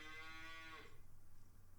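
Cattle mooing in the farming video game Farming Simulator 19: one drawn-out, tonal low moo, fairly close, fading into a steady low farm ambience, with no talking.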